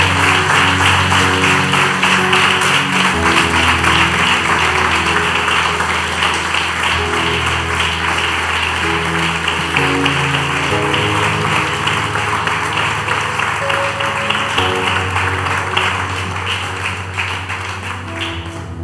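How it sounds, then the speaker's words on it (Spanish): A church congregation claps in praise, a dense sustained wave of applause with steady rhythmic beats underneath, loud throughout and fading slightly at the end. "Alguien debería darle un aplauso al Señor."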